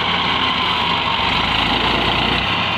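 A tractor stuck on a riverbank in a Pakistani village, engine droning steadily and loudly under heavy load throughout, a continuous close rumble with no pauses.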